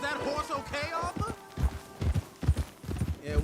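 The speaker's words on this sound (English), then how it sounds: "Is that horse okay, Arthur?" Horse hooves clip-clop in a steady, rhythmic walking pattern in the video game Red Dead Redemption 2, fairly close, heard under and after people talking.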